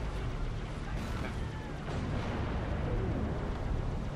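Scarab tank weapon fire and explosions in Halo 3, a continuous loud roaring blast wash with rumbling low end and layered booms, steady throughout with no talk.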